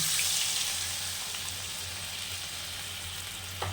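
Katla fish fries in a pan as a soaked paste of salt, turmeric, chili powder and mustard is added, giving a steady broadband sizzle, loud at first and then settling, with a small clatter near the end.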